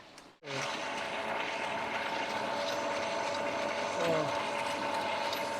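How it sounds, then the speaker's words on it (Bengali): A rope-making machine in Bangladesh twisting thread into rope, giving a steady mechanical whir and rattling with a faint ratcheting rhythm, starting after a brief quiet gap and running continuously at moderate loudness. "সুতা দিয়ে এই মেশিনের মাধ্যমে এই দড়ি হইতেছে"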